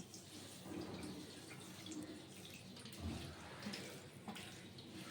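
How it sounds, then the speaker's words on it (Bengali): Mustard seeds and white sesame seeds are being washed in water for an okra curry, giving a faint, continuous splashing and swishing with small gurgles and drips, close by and without speech. "আমি সর্ষে আর সাদা তিল ধুয়ে নিচ্ছি।"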